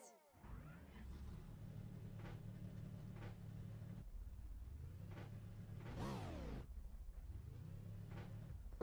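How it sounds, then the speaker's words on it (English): Engines of a field of NASCAR stock cars at Martinsville in the NASCAR Racing 2003 video game, a steady loud rumble with revs rising and falling in sweeps, with a voice over it. "Drivers, start your engines!"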